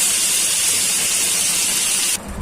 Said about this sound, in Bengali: একটু তেলে ভেজে নিচ্ছি।